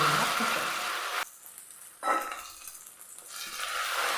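Egg frying in oil in a pan: a steady sizzle with stirring and scraping against the pan, one brief loud hiss as the egg hits the hot oil, heard close with no talking.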